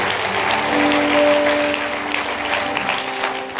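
Church congregation applauding during a French-language worship service, a dense sustained wash of clapping with crowd voices and faint tonal music underneath, steady and loud throughout.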